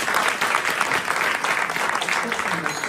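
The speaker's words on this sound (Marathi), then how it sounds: "आमच्या आदरणीय मधुर विशारद आयुष महाराज धनावडे त्यांच्याकरता टाळ्या वाजवतात" Steady applause from a gathered audience at a devotional kirtan, honouring the young singer Ayush Maharaj Dhanawade; the clapping is dense and continuous, filling the space throughout with a voice faintly underneath.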